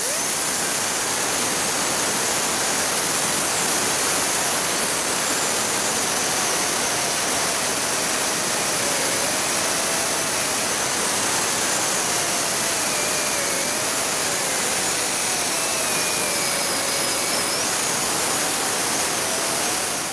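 A grinder runs across tack welds on a replacement cab corner of a 2001–2006 Chevrolet Silverado 2500. It gives a loud, continuous abrasive roar with a wavering motor whine, steady and unbroken throughout.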